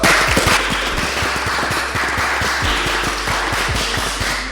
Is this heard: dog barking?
no